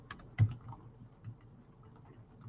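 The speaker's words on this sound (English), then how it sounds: "I can't even type it right." Soft, quiet keystrokes on a computer keyboard, a few irregular taps spread over a couple of seconds with one slightly sharper click near the start.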